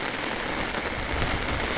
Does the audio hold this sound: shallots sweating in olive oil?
no